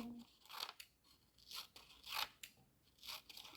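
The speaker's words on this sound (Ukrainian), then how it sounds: "ми нарізаємо багато промінчиків." Scissors cut paper strips into small sun rays for a children's paper appliqué craft, giving about five crisp, close snips in a steady rhythm, alone and quiet.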